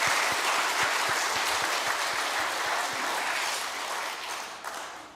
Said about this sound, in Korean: 박수를 해드리겠습니다